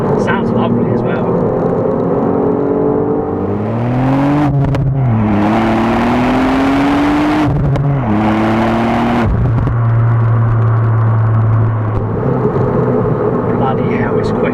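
A 2018 Ford Fiesta ST hot hatch in sport mode, its engine loud and close as it revs up through gears, pitch rising and dropping with quick shifts, a strong steady roar between.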